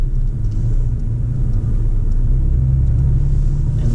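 Toyota Tacoma pickup engine towing a car, a steady loud low rumble of road and engine noise held throughout as it drops down a gear, with no talk.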